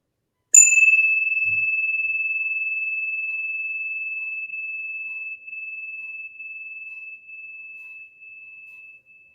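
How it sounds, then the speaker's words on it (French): A single bright chime is struck once during a guided meditation and rings out as a long, pure sustained tone, slowly fading in a quiet space. "Puis un petit coup de carillon."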